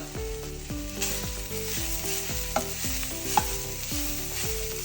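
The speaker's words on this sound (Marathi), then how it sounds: "आता तितून आमी सोय घालून सोयी बरी ब्रावन जायसर भाजून घेवया." Soy chunks fry in a pan after tomatoes for an egg masala curry, a steady hiss of sizzling oil heard alone under soft background music with a couple of faint clicks.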